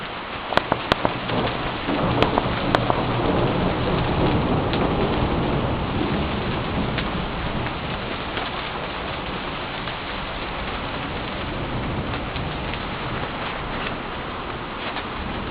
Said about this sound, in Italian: un violento botto di temporale completamente stordito, davvero assordante. In questo momento sta aumentando la pioggia anche.